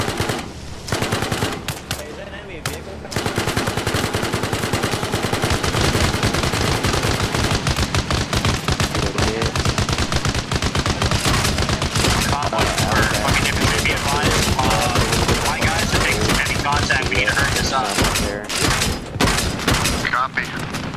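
Sustained machine gun fire in the military shooter game Arma Reforger: dense, continuous rapid bursts of loud gunfire with booms, running almost nonstop for about twenty seconds while players talk over the radio.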